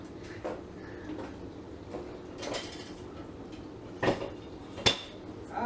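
Dishes are washed by hand, with scattered clinks and clatters of plates, pots and cutlery at a modest distance over a steady background hiss. Two sharper knocks come near the end.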